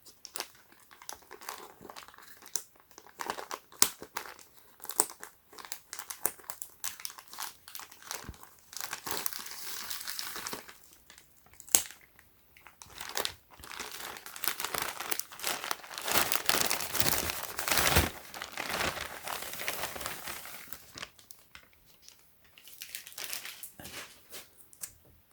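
Plastic packaging around a Supreme x The North Face tee is cut open and handled, producing dense, close crinkling and crumpling in irregular bursts that swell and fade over about twenty-five seconds.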